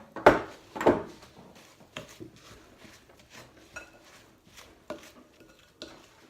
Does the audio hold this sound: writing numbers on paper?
no